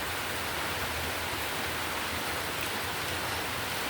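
Rain falls as a steady, even hiss, soft and continuous throughout with no breaks and no voices.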